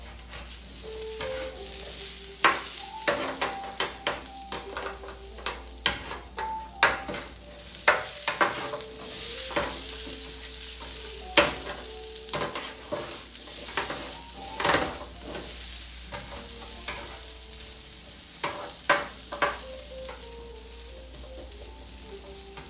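Thick pancakes made with baking powder cooking on a grill, with a steady bright sizzle throughout and frequent scraping and tapping of a spatula.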